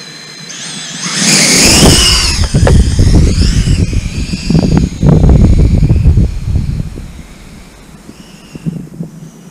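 An RC aircraft with an HQ 8-bladed 76mm propeller takes off: a high whining propeller rises sharply, then loud rushing motor and wind noise lasts for several seconds before easing, close to the microphone.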